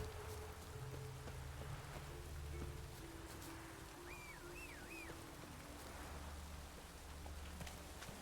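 Steady rain falls in The Witcher 3 game world, a continuous broadband patter that stays even throughout, with low music or ambient tones beneath and a brief chirping call partway through; no one speaks.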